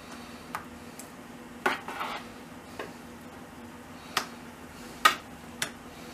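A large spoon spreading corn bread batter evenly in a baking tray, giving soft scraping with scattered sharp metallic taps and clinks against the tray, close and fairly quiet.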